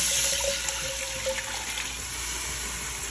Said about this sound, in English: I will pour the rest of the water in here just to rinse everything out